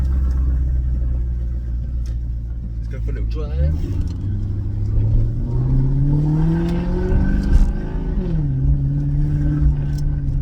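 A Maserati GranTurismo S engine with its exhaust valves deleted rumbles at idle, then revs up and settles as the car pulls away, loud and close, with someone speaking briefly over it.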